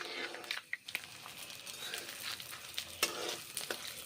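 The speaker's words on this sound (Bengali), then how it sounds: "পাঁচ ফোড়ন ভেজে নিচ্ছি" Panch phoron spices fry in mustard oil with a bay leaf for vegetarian moong dal, a quiet, close sizzle with light stirring clicks and small scrapes of a spoon against the pan.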